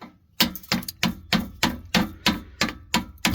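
Metal hammer blows under a Subaru during a home exhaust replacement: about eight sharp, ringing strikes in a steady, fairly even rhythm, loud and close, with no talking.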